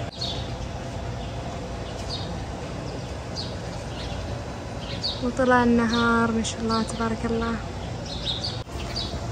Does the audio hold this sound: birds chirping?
yes